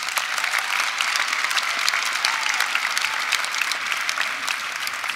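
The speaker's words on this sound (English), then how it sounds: "give yourselves a round of applause because you did a great job" A university audience applauding itself, dense and sustained clapping from a large crowd, steady and loud throughout.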